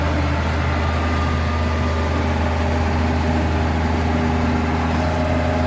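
A 2019 Morooka MST200VDR crawler carrier runs with a steady, loud, continuous diesel engine drone and track noise as it pivots in place, with no talking.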